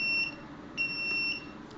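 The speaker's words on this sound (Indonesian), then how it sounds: "mobil akan memberikan peringatan berupa buzzer yang terputus-putus" Two bursts of a high, two-tone electronic buzzer beeping with a pause between them on a radio-control car warning of excess weight, steady and fairly loud over a low background hum.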